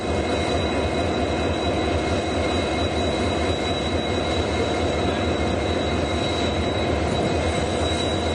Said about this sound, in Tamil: பனிமூட்டத்துக்கு இடையே வந்தே பாரத் ரயில் பயணித்தது